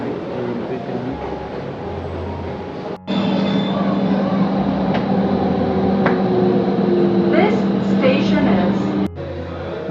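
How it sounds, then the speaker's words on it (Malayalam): An underground metro train runs with a steady loud rumble from inside a carriage. A sustained hum and occasional squeals rise above it, and the noise briefly cuts out twice. "ഞാൻ മെട്രോ കയറി."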